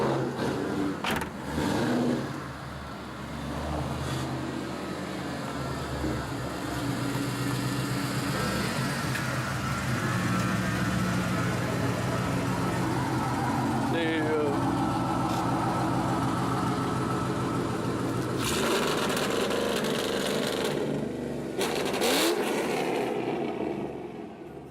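A straight-piped Ford Mustang GT V8 exhaust, very loud and close, revving hard in repeated blips and sustained pulls with rough idle between, the harsh bark dominating throughout.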